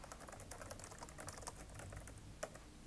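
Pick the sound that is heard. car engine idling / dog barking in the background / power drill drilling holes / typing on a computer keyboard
typing on a computer keyboard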